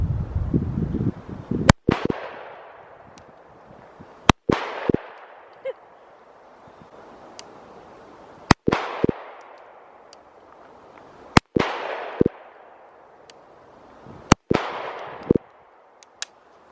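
A CZ PCR Compact pistol is fired at a shooting range, giving sharp, loud reports spaced a few seconds apart, some in quick pairs, each with a short ringing decay into quiet between.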